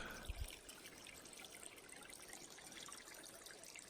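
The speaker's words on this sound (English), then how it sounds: "It's all just dripping right through the moss on the rocks." Water trickles and drips steadily through moss on rocks along a mountain trail, a soft continuous wash of fine droplets, faint and even, with no voices.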